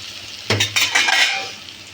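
Ivy gourd fry stirred in a pan, with a sharp metallic scrape of a spoon against the pan followed by a few softer clinks and stirring sounds over a faint sizzle.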